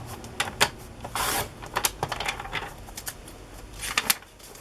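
A paper trimmer slices along the edge of pages from a Little Golden Book, giving a cluster of sharp, close clicks and a brief rasping cut, all fairly quiet with no voices.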